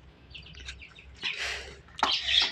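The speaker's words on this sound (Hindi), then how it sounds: "देखें मेरे तोते चीख रहे हैं, इनकी आवाज़ें सुने गाइस" Sharp, raspy parrot screeches up close, a few short calls followed by two louder harsh bursts, with no talking.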